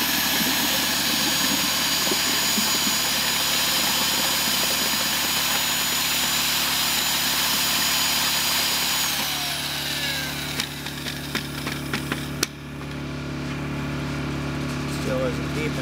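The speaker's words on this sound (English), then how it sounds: "Grab the drill." A power drill bores into clay at a cattail pond site, a loud continuous high whine that runs steadily, then falters and stops near the end, leaving a low background hum.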